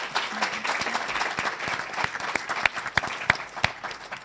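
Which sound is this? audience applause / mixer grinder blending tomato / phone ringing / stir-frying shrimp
audience applause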